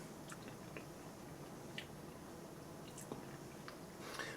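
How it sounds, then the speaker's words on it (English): Close, quiet chewing of MRE nuts and raisins, with soft crunching and squishy bites repeating irregularly over a low steady background, no talking. "The nuts are still crunchy and everything."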